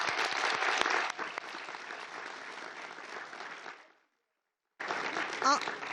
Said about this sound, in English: So let's give a nice round of applause to Conrad one more time